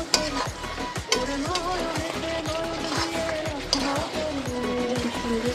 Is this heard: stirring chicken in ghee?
yes